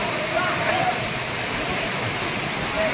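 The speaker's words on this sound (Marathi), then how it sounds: "तर काळमांडवी वॉटरफॉल बघू" Kalmandvi waterfall in Jawhar taluka roars as a steady, loud, broadband rush of falling water, continuous and unbroken from start to finish.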